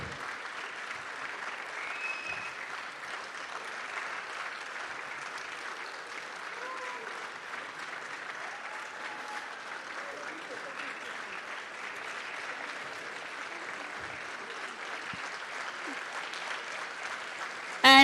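A theatre audience gives a long, steady round of applause for actors and dancers after a Shiv Jayanti drama about Rana Pratap, dense clapping at an even, moderate level throughout.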